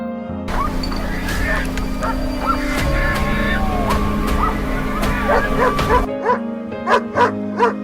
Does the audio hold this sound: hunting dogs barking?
yes